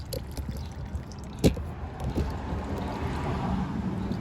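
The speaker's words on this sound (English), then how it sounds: "It's still just dripping on down." Motor oil drips from a 5th-generation Ram 1500 pickup into a drain pan during an oil change, a steady liquid patter and trickle with one sharper drop near the middle, close by with no talking.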